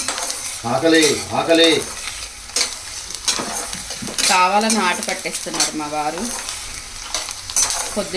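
Ingredients fry and sizzle in a pan for mango pulihora (mango rice) and are stirred while a person talks over it, the hiss steady beneath the voice.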